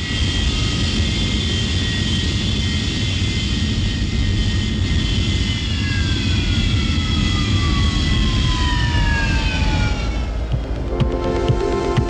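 Military jet aircraft engines running loud and close on the ground ahead of a repeated takeoff, a sustained roaring whine with a steadily falling high tone and a rougher shift near the end, no voices.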